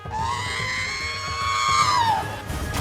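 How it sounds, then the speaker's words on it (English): Ridley from Super Smash Bros. Ultimate lets out a long, shrill, rising screech that holds for about two seconds, then sweeps downward and cuts off, loud and alone. "Ridley's scream is very iconic"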